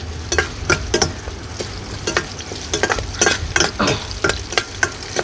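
Grated coconut and crushed garlic sautéing in a pan for kappa biryani, a steady close sizzle broken by frequent rhythmic spatula scrapes and taps against the pan.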